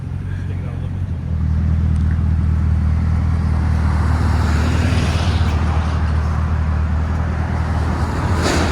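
A supercharged 6.2L V8 in a 2012 Cadillac CTS-V with a Carven TR-Series exhaust idles low and close, then swells into a louder, thicker rumble after about a second and holds steady.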